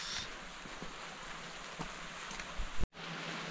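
Heavy rain falling outdoors near the Kissing Rocks at Mabaruma, a steady hiss of downpour with wind, cutting off abruptly near the end before resuming.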